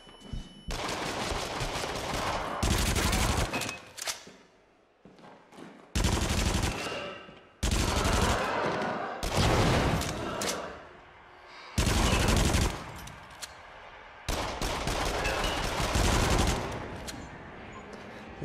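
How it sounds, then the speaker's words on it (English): Bursts of rapid gunfire from a gun in the horror rail-shooter video game Until Dawn: Rush of Blood, several loud sustained volleys separated by short quieter gaps. "This gun's pretty good."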